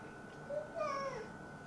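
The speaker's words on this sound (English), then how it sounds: "You yawned and meowed at the same time." A pet cat gives a single drawn-out meow that blends into a yawn, close and fairly soft, rising and falling over about a second against a quiet room.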